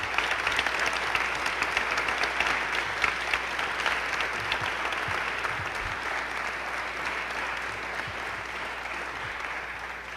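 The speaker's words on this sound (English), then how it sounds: "Dean Rutherford, to close us out. Well, let's give the panel a round of applause." Sustained audience applause after a 2013 panel discussion on health coverage in Arkansas, a dense steady clapping from a large room that holds at an even level throughout.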